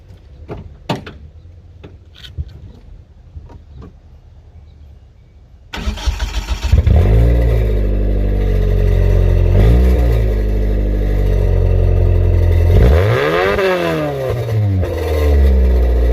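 A 1996 Hyundai Elantra engine cranks and catches after a few faint clicks, then idles loudly and steadily with two clear revs rising and falling, recorded close by with no talk.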